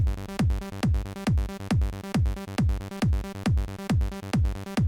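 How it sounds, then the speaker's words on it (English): A punchy electronic trance kick drum thumps in a steady, fast repeating pattern, each hit dropping in pitch, with a buzzy tonal trance bass riding along. "Let's just listen to the kick."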